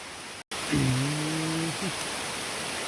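Rain falls steadily in a forest as a continuous, even hiss. A brief break in the sound comes early, and a short, sustained tonal call rises over the rain partway through.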